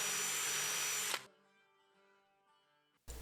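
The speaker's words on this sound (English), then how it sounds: "now is the perfect time to drill my holes for my adjustable shelves" Drill boring adjustable shelf-pin holes through a Kreg jig into a cabinet side panel, a loud steady whine for about a second that cuts off to a quiet pause before the drill starts again.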